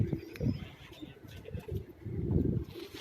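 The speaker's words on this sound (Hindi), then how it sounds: "ये शेखों वाला कबूतर आपके मोबाइल की स्क्रीन पर" Sheikh-type pigeon cooing softly on a rooftop in Karachi, low repeated coos in an uneven rhythm, fairly close, with faint background noise and no talk.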